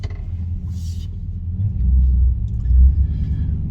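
A 2003 Chevy Suburban Z71 4x4 drives on the road, a loud, steady low engine and road rumble heard from inside the cab, swelling slightly as it picks up speed.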